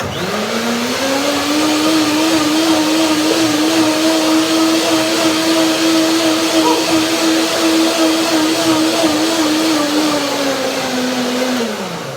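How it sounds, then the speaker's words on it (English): A blender whirs steadily as it purees soft sour cherries with date mousse, a loud, even motor drone that holds for about twelve seconds before tapering off at the end. "Blender dance very shortly"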